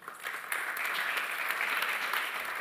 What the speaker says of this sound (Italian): facciamo un applauso a queste start-up che adesso saliranno sul palco